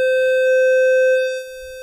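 A steady, loud synthesized tone clipped at the tops of its waveform, rich in evenly stacked buzzy overtones, holds for over a second and then drops in level.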